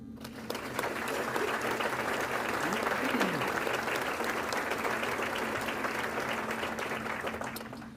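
Audience applause at a military colonel's retirement ceremony swells after a moment into steady, full clapping from a large room and tapers slightly at the end.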